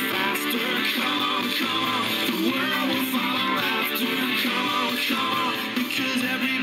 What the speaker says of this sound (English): Let's kind of show you what the iPhone sounds like with some music on here.